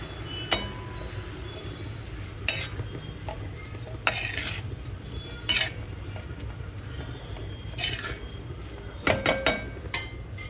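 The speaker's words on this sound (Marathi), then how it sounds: "आता आपण ह्याच्यामध्ये मेथीची भाजी सोडायची आहे. एकत्र करू आता आपण." Fenugreek leaves and masala are stirred in a frying pan, giving a steady sizzle with a spoon scraping and clinking against the pan at intervals, close and without talk.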